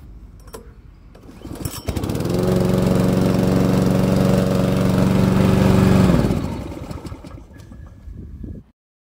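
A pull-started petrol engine on a VTW550-90 radio-controlled mowing robot catches after a couple of pulls, roars steadily at close range for about four seconds, then winds down and stops.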